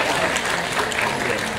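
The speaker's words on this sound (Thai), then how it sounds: "ขอเสียงปรบมือต้อนรับท่านด้วยนะครับ" Steady, full applause from an awards-ceremony audience welcoming a dignitary onto the stage, continuous and fairly loud with a faint voice mixed underneath.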